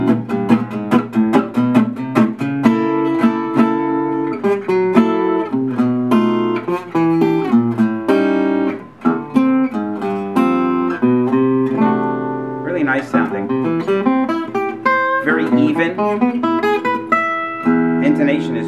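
An Ibanez Exotic Limited AEW16LTD1 acoustic guitar strummed in repeated chords, bright and close, with a steady rhythm and occasional single-note runs between strums.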